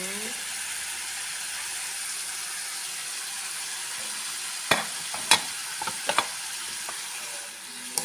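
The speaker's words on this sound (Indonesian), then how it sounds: "Oke, ini saya masukkan timunnya dulu." Cucumber tipped into a pan of stir-fried bean sprouts, a steady hiss of sizzling oil with several sharp scraping clicks of a utensil stirring toward the end, fairly close and without talk.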